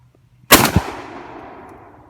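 A single loud, close shotgun blast from a 1960 Ithaca, a sharp crack followed by a quick echo and a long fading outdoor decay.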